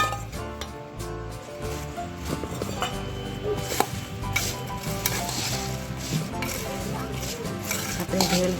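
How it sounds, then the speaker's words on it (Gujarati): Tomato ketchup is stirred into puffed rice bhel with masalas, producing busy scraping, clinking and rustling of spoon against bowl, fairly close and continuous with small knocks throughout. "હવે આપણે એની અંદર મિક્સ કરીશું ટમેટો કેચઅપ।"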